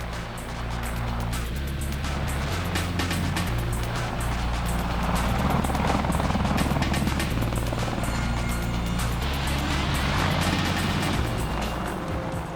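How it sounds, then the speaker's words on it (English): An Apache attack helicopter in flight: a loud, steady, throbbing rotor and engine drone that holds without a break, close and dominant, with no voices. "The Apache aircraft was designed to be a heavy attack platform for the Army."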